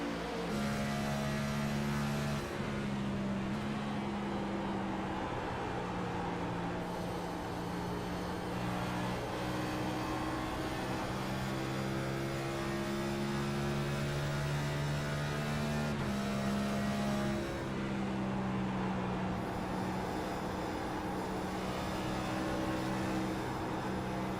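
Video-game race car engines at Darlington Raceway drone steadily, their pitch rising and falling with shifts and acceleration, fairly quiet and continuous without any voices.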